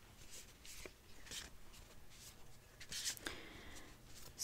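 Animal cards are shuffled by hand during a guided meditation, with quiet, soft papery riffles and flicks coming in short bursts at low volume.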